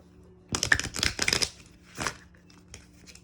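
Quick bursts of crisp tarot card riffling, three or four close together then one more after a pause, with softer flicks trailing off near the end.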